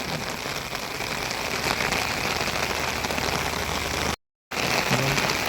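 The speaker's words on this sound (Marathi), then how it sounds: "तर अजून भेटेल कारण की पाऊस आलाय" Steady heavy rain of the first monsoon shower in the Konkan countryside drums on surfaces as a dense, even hiss that stays loud throughout and cuts out briefly near the end.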